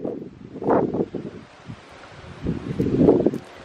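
Strong wind gusts across a carp fishing lake, rising and falling in two loud buffeting surges with rustling and rumbling microphone noise, no speech.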